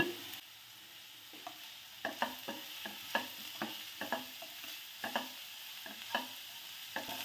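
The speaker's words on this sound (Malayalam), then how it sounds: "അപ്പം ഇത് നല്ല വഴന്നു വരണം ഒരു സവാളയാണ്" Onion sautéing in a pan for a duck roast, with quiet frying sizzle under repeated scraping stirs of a spoon against the pan, close and fairly rhythmic.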